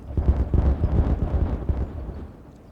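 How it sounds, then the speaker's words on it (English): Dynamite detonates in Timberborn with a deep, rumbling explosion, a cluster of low booming thumps that roll on and fade out over a couple of seconds, with no voices. "Let's go ahead and detonate it. And then let's detonate this bunch."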